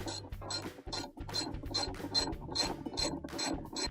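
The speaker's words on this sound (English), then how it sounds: "Then we'll take our socket with the ratchet, we'll tighten that back up" A socket ratchet tightens a washer's spanner nut in rapid repeated strokes, each a short clicking burst from the pawl, close and rhythmic, with no speech.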